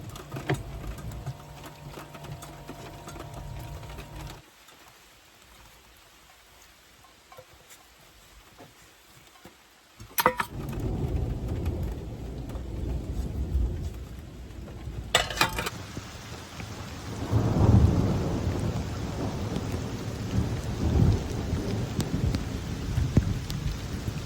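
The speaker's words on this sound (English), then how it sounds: "It's raining too hard" Heavy rain pours steadily at a campsite, with a loud crack and a rumble of thunder partway through, and the downpour grows denser and louder afterward, with no voices.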